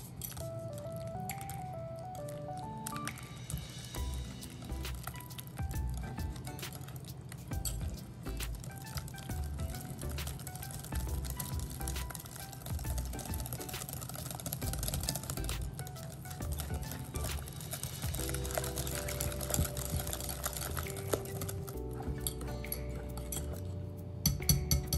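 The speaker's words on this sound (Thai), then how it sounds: "แล้วเราก็จะคนส่วนผสมของอะโวคาโดแล้วก็ไข่ให้เข้ากันค่ะ" A mashed avocado and egg mixture being stirred in a bowl, soft squishy scraping with light clinks of a utensil against the bowl, quiet and continuous, with faint background music.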